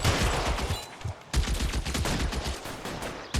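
Rapid bursts of gunfire in the video game LA Noire, two clusters of sharp repeated shots separated by a brief pause, loud and close, with no talking.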